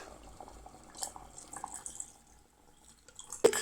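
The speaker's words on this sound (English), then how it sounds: "We can now pour the coconut milk." Coconut milk is poured into pressure-cooked mutton for a south Indian kurma, giving soft, faint liquid splashes and drips, with a sharp clink near the end.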